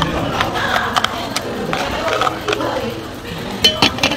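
A metal spoon clinks into a container and its lid snaps shut, several light clinks and clicks scattered through the moment, close and moderately loud.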